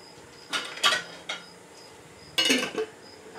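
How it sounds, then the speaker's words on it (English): Lid being put on a container of aged peach brandy, a few short clattering knocks and a scraping clink as it is fitted and pressed on, with quiet pauses between the sounds and no talk. "I'll put a lid on that"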